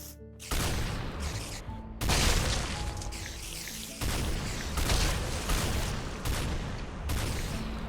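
An automated turret fires an AS-50 rifle in the Minecraft Techguns mod: loud, booming game gunshots in rapid repeated bursts at roughly one-second intervals, each ending in a short decaying echo.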